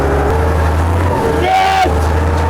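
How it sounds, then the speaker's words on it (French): A tractor engine running close by, a steady loud low diesel drone with a brief change in pitch midway, continuous throughout without clear talk. "Ça, c'est du tracteur."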